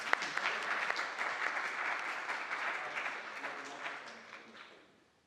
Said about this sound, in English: Can we have some applause?